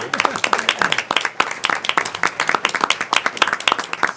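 A small audience claps at a school board meeting, a burst of fairly close, uneven handclaps lasting a few seconds with some voices mixed in.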